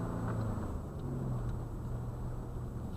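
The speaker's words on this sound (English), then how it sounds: "Now that's a dump truck." A dump truck driving past on a road, heard as a continuous low engine rumble and road noise, steady and fairly close, with no talking.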